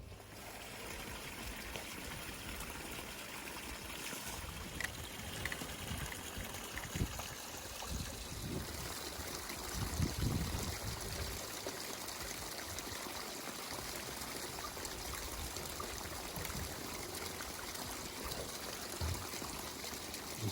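Water runs steadily into a garden pond being restored, a soft continuous trickle and pour heard at a distance, fairly faint, with no voices.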